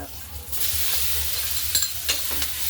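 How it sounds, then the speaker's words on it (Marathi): Spice paste with turmeric and curry leaves sautéing in a pan, a steady loud sizzle with occasional scraping stirs of a spoon, close up and without speech. "वाटण छान परतून घेऊ।"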